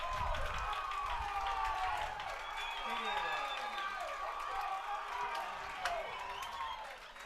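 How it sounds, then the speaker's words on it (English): A rowdy high school baseball crowd at a Titans game claps and cheers steadily in the background while a commentator talks over it. "And the Titans crowd is getting really rowdy out there."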